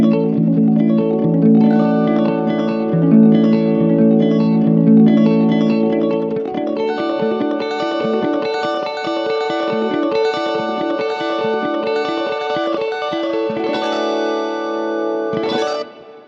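Electric guitar through a Quad Cortex set to a clean tone plays a steady run of notes with shimmering chorus, echo and reverb, loud and alone, ending on a brief final flourish.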